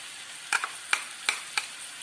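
Boiled potato and cauliflower florets are mixed in a pan for pav bhaji, giving four distinct scraping strokes of a spoon against the pan, close and crisp over a faint background hiss.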